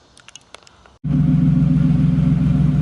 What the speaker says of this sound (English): Alright, so started up the car.